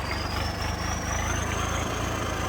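A Swaraj tractor engine idles steadily up close with a low, even diesel throb and a faint high whine above it; no one speaks.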